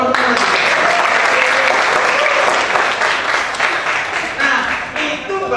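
Sustained applause from a seated youth group at a church retreat in Indonesia, loud and dense throughout, thinning slightly near the end.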